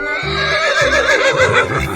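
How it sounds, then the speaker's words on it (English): A zebra call in a 3D animal slide video game sounds as a loud, close horse-like whinny, a wavering neigh lasting about two seconds over faint game background. "Zebra."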